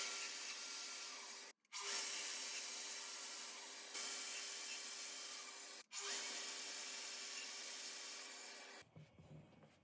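A power drill bores holes into wood pieces for a modern TV cabinet, with long steady whirring runs broken by brief pauses, close and loud, then stopping at the end.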